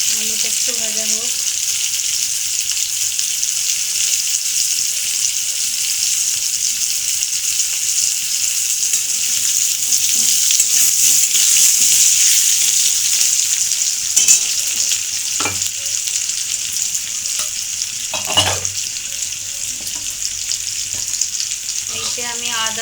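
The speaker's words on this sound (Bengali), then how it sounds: "আলুটা একটু ভাজা হোক।" Potatoes frying in a pan with tomato for a Bengali fish curry, a steady loud sizzle lasting throughout with occasional stirring scrapes and clinks.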